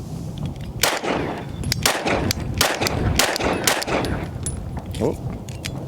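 Rapid pistol shots from a PSA Sabre Dagger firing SuperVel 115-grain rounds at an outdoor range, loud sharp cracks in a quick irregular string with echoes, fired one after another without pause.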